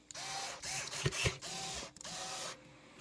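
Screws driven into an early-2000s Korean-made LTD electric guitar, a short burst of close mechanical whirring and ratcheting with a couple of sharp clicks, heard alone.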